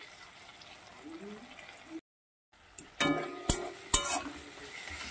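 Ginger garlic paste dropped into a hot pan with onion, a sudden burst of sizzling after a brief silence, with a couple of sharp spoon clanks against the pan over continuous frying.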